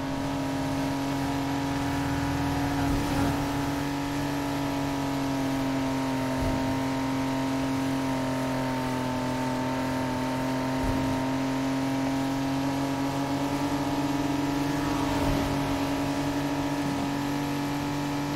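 A car engine in Need for Speed Heat drones at a steady, sustained pitch, loud and continuous throughout with only slight shifts in revs and no speech.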